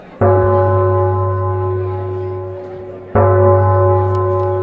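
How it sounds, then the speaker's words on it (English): A single deep prison bell tolls twice, each loud, close stroke ringing out with a long humming decay before the next strike. "At 8 a.m, a bell tolled."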